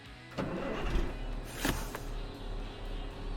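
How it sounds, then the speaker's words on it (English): A truck at a truck driving school has its engine running as a steady low rumble, with a few short clunks and a sharp rattling burst partway through. "Engine and everything going."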